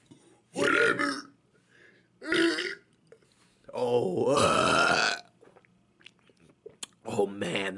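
Loud, drawn-out belches come from a person on a full stomach. Three long resonant burps roll out with pauses between them, the middle one the longest, with a few softer throat noises in between and more toward the end.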